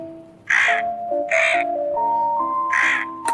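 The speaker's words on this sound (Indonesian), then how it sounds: "Itu antara tuh bunyinya gagak" A crow caws loudly and close by in three harsh calls spaced about a second apart, with steady electronic tones running underneath.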